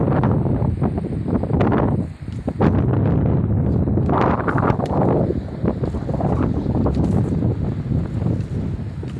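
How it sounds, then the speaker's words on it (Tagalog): Steady wind buffeting the microphone at a seaside spot near a path down to the sea in Barangay Minanga, Sarangani Province, a loud continuous rumble with gusts and no talk. "masarap yung hangin dito mga guys"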